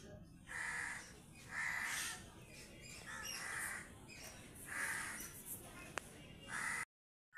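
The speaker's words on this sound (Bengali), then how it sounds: "আমার ঘরের টিনের মধ্যে পাখি আসছে অনেকগুলো, ওই পাখিগুলো আওয়াজ করছে" Birds gather on the tin roof of a house and give harsh, crow-like caws, about five loud calls at a steady pace over low background noise.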